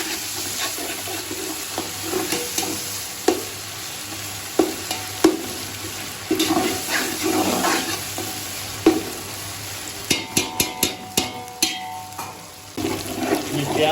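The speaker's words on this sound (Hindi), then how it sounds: "ये प्याज जो हमारा अच्छी तरह से फ्राई हो गए, अब हम इसमें डालेंगे अदरक लहसुन का पेस्ट।" Onion with ginger garlic paste frying in a pan, a continuous close sizzle broken by repeated scraping and sharp knocks of a spoon against the pan, with a clustered run of taps near the end and no talking.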